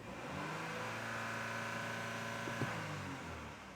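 Audi Q5 engine with a suspected turbo boost fault revving steadily under load, a sustained rising drone with a brief sharper burst near the end, close and loud with no talk.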